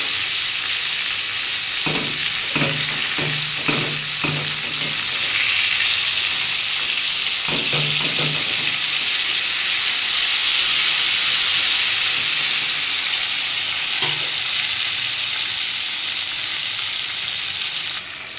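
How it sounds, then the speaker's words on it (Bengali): Ripe pointed gourd (potol) slices fry in a pan with a loud, steady hiss and sizzle, broken up by short bursts of clattering as the slices are turned and cut in the pan. "পটলগুলো আমার একটু ভাজা হয়ে গেছে, আমি একটু উল্টে দিয়েছি আর একটু কেটে কেটে দেবো।"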